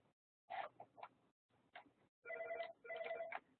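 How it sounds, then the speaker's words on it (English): A telephone rings in the background during a meeting, with short electronic ringing bursts that repeat in a steady pattern and sound faint and distant. "And I do apologize for all the ringing in the background."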